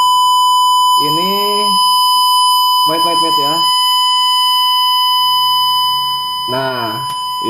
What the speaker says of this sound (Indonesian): alarm akan berbunyi yang menandakan berarti tendenya surut untuk segera diisi air